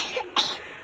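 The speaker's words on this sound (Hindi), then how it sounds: "बहुत खांसी है।" A single short cough bursts out close by, preceded by a faint breathy sound.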